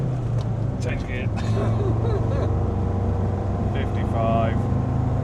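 Land Rover Td5 fitted with a GTB450 turbo pulling uphill in third gear, a steady loud engine drone inside the cabin with people talking over it.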